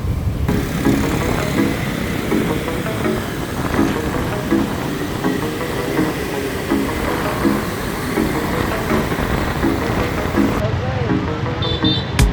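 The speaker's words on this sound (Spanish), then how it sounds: "Vamos en moto." Motorbike ride through Ho Chi Minh City (Saigon) traffic in Vietnam, with a steady engine drone and road rumble throughout, people talking over it.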